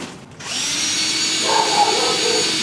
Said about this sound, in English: Just going to screw this box into both sides.